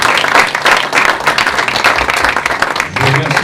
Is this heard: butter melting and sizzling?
no